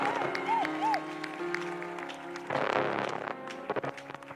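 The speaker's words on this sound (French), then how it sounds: "Let's clap for Jesus" A church congregation at a live praise and worship service in Abidjan claps for Jesus. A strong burst of crowd applause rises midway and is mixed with voices and music, with scattered claps toward the end.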